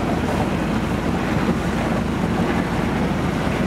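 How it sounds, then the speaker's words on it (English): A rebuilt marine engine runs steadily on a sea trial, its low drone blended with wind buffeting the microphone and water rushing past the hull, constant and loud throughout with no talk. "the engine is rebuilt and running"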